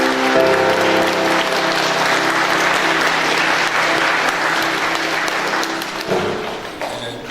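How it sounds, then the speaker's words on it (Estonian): A church congregation at a school Christmas service claps loudly and steadily for teacher Signe, with dense sustained applause that tapers off toward the end, alongside a faint lingering tone. "ma paluksin õpetaja Signale ühte väga suurt aplausi"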